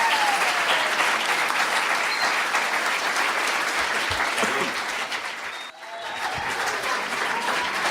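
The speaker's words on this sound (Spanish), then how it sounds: "el aplauso, por favor, para cada uno de ellos." An audience at a panel event at Ibero Torreón breaks into sustained applause, a thick wash of many clapping hands that holds steady, dips briefly near the end and then swells again.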